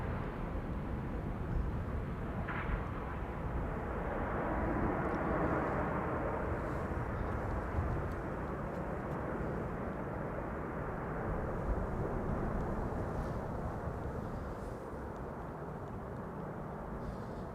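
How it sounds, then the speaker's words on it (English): An Emirates A380 airliner approaching at Amsterdam Schiphol Airport gives a broad, steady low jet roar that hangs at a constant level throughout, heard from a distance with no talking. "we have the Emirates A380 over there coming this way"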